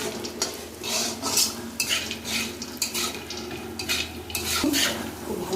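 Semolina, vegetables and nuts stir-fried together in a kadai for jhal suji, a busy run of metal spatula scrapes and clinks against the pan over a faint sizzle.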